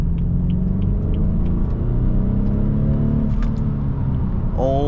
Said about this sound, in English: We'll take a little easy at the front, and we'll accelerate out of this.